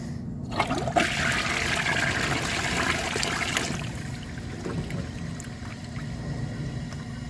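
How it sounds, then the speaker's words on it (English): A 1992 Peerless Hancock toilet flushes with a dish towel in the bowl: a loud rushing burst of water that quickly settles into a quieter steady trickle and gurgle as the bowl refills. "now let's add some water to the bowl and put a dish towel in it and flush it"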